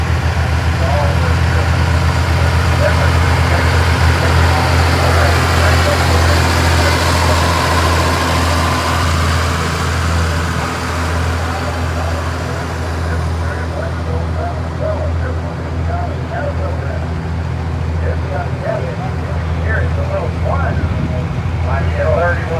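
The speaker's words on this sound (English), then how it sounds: "Next one up is a 1950 Boonville assembly carrier, old pit tractor as well." Old Oliver tractors rumble past in a parade at the National Oliver Show in Boonville, Missouri, one of them a 1950 Boonville-built carrier. Their low engines idle steadily and loudly, with someone commenting over them.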